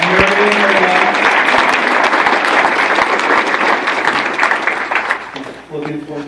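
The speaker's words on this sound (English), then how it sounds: "You guys give them another round of applause." An audience at an interview event applauds loudly and continuously, the clapping gradually thinning out toward the end as a voice begins to speak.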